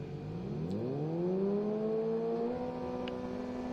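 A car engine revving in the racing game Live For Speed, pitch climbing steadily and then holding at a high, sustained whine, loud and alone.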